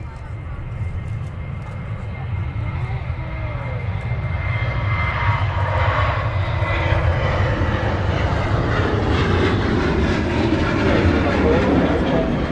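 Airliner jet engines on the runway at Manchester Airport, a deep rumbling roar that builds steadily louder toward the end, with a voice talking underneath.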